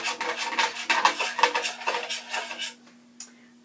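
A metal spoon scrapes stuck bits loose in a pan of brown gravy, making steady rasping strokes at a brisk rhythm, close up, before tapering into quiet.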